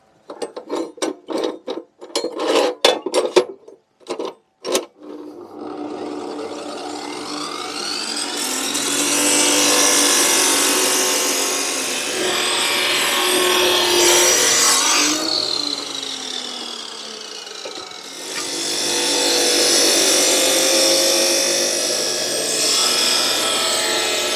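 A power tool cuts steel star pickets at a 45-degree angle. A quick series of sharp clicks comes first, followed by a long, loud, continuous mechanical whine and grinding that eases briefly before picking up again.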